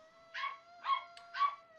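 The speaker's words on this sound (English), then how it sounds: "I apologize yet again for the dogs" Several dogs barking indoors in three short, loud bursts evenly spaced about half a second apart, each with yipping overtones, over a steady electronic hum.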